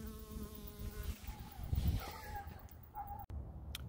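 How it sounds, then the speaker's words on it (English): A bee buzzing close by outdoors, a steady insect drone with low rumbling wind or handling noise, moderately loud and continuous throughout. "a bee landed right where I was looking at"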